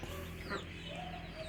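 A rooster recovering from chronic respiratory disease (snoring, CRD) clucks softly while pecking at its food, with a few short, low clucks close by over light background noise.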